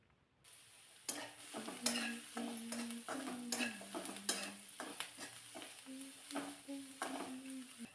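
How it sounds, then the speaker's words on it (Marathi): Onion sautéing with a little fine salt in a pan, faint sizzling under repeated clinks and scrapes of a spoon stirring against the metal. "चांगला लालसर कलर येईपर्यंत कांदा मी परतून घेतलेला आहे."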